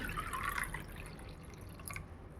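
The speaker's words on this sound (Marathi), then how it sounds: "पाणी घालते." Water pours into a bowl to start a ragi (finger millet) papad batter, a steady close trickle and splash that thins out toward the end.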